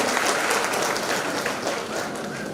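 Steady, dense applause from a crowd at a Yakshagana-style stage performance event, sustained clapping filling the whole moment without pause.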